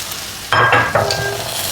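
A coconut dish roasting in a pan, with two or three close scraping stirs over a soft, steady sizzle, loud and clear, with no talking.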